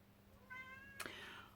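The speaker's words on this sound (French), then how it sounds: "Oh, le chat! Bonjour le chat." A domestic cat gives a single short, rising meow at close range, ending with a brief bump or rustle, against quiet indoor background noise.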